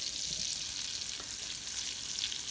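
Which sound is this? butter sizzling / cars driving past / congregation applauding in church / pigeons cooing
butter sizzling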